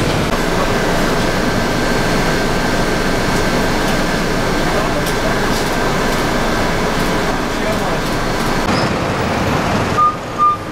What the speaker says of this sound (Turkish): Kaptan klimamız sürekli çalışacak.